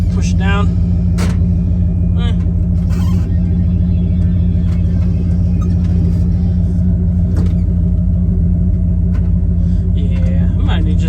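The engine of a cheap auction dump truck rumbles steadily up close with a deep, continuous drone. Gears whir briefly as they spin up, with occasional clicks. Someone talks now and then over the running engine.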